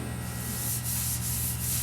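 Metal bodywork on a VW Beetle is sanded by hand with 80 grit sandpaper, a close, continuous rough scraping rasp with brief rhythmic strokes toward the end.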